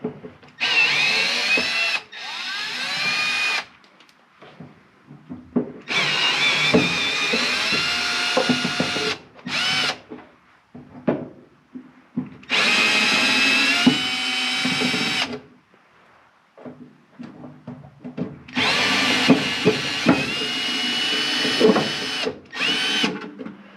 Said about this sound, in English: we'll get the screw gun, but we'll use a regular screwdriver to break them loose